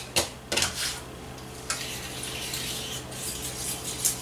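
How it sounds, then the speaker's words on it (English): A spoon stirs cocoa into a boiling sauce in a pot. A few sharp scrapes and clinks against the pot come early, then a low bubbling hiss continues with occasional light knocks. "I'm going to add my cocoa, and I'm going to stir that in."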